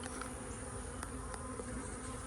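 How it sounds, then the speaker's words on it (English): Honey bees from a nuc hive buzz right against a camera, a loud, close, steady drone with individual insects whirring past the microphone. "But there's bees on my camera."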